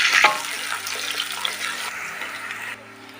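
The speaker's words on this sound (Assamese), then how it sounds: "এইফালে আমাৰ তেল গৰম হৈ গ'ল আৰু লগতে ইয়াতে মই গৰম তেলত পিঁয়াজখিনি দি লৈছোঁ।" Onions dropped into hot oil in a home kitchen for an Assamese recipe, with garlic and ginger paste nearby, giving a loud bright sizzle at first that eases into a steady hiss.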